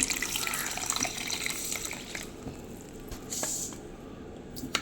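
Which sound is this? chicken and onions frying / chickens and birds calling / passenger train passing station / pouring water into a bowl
pouring water into a bowl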